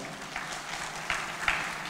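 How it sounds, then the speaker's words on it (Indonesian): Audience applause at a digital banking product launch event, a steady wash of clapping with a couple of louder bursts, moderately distant and filling the whole moment without speech. "Boleh minta tepuk tangan yang paling meriah."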